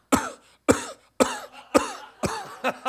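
A person imitates a sheep coughing: five harsh, evenly spaced coughs, close and loud, each followed by a short pause.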